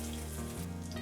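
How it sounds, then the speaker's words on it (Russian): Minced-meat chops sizzle in a hot frying pan, a steady close crackle with no voices over it. "Жарятся отбивные из фарша очень быстро."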